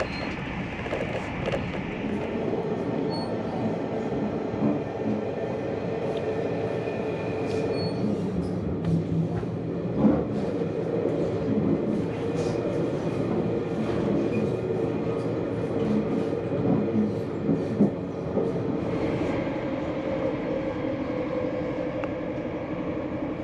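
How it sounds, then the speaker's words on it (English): Spirit of Queensland tilt train running fast on Australian track, heard from inside as a loud continuous rumble with rhythmic wheel clatter and occasional squeals, with no speech. "Look how fast the train is travelling at."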